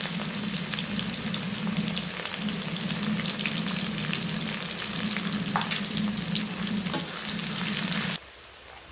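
Finely chopped large onion sizzles steadily in hot oil in a pan for a Bengali fish curry, with a low hum beneath, a few faint stirring clicks, then cutting off abruptly near the end.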